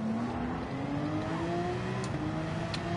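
Race car engines in Gran Turismo 7 rev with a rising tonal whine climbing steadily in pitch over a rumbling background, fairly faint and distant, with a couple of brief sharp ticks near the end.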